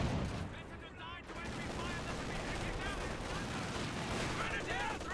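Heavy gunfire and artillery explosions from a Company of Heroes 2 battle roll on continuously, a loud, dense barrage of blasts and shots with a voice speaking over the combat at the start.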